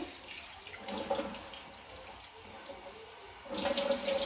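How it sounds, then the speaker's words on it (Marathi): Water runs from a tap in a steady splashing stream, swelling louder near the end as items are rinsed under it. "आपल्याला आता धुवून घ्यायचं याला स्वच्छ पाण्यानं"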